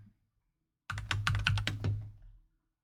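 Quick typing on a computer keyboard during Excel work: a rapid burst of close, crisp key clicks lasting about a second and a half, with no talk.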